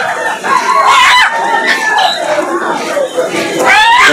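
Native chickens and a rooster at a poultry market cluck and crow loudly up close, with a crowing call near the end, while people talk over the birds.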